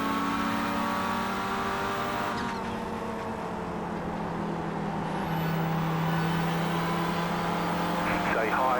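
Race car engines drone steadily in the iRacing sim during a Kern County enduro round with GR86, MX5 and Clio cars, a sustained mid-level engine hum with a rising whine near the end and no clear speech.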